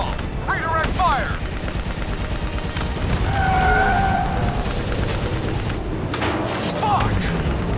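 Heavy gunfire in Call of Duty Black Ops 3 on Xbox, rapid automatic bursts and booming shots running almost continuously, loud and close, with shouted soldier dialogue and vehicle noise mixed in.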